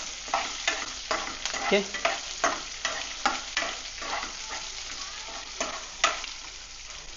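Sliced onions fry in hot oil in a pan until golden, under a continuous sizzle broken by regular stirring scrapes about once a second, close and clear; a voice speaks one short word.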